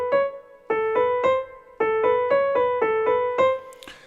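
Short detached piano notes in a phrase, each struck note cutting off quickly, in two groups of three and five with a brief gap between, clear and close with no talking.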